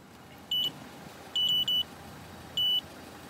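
A radar detector gives quick electronic alert blips during testing against remote radar detectors: one short beep, then a close pair, then another single beep. They are crisp and distinct over a faint steady hiss.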